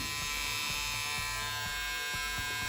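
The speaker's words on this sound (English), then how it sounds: "The shaver buzzes quietly, nothing too aggressive." A Braun Series 5 electric shaver runs with a steady, close, even buzz and faint rhythmic rattling pulses for the whole stretch, alone with no voices.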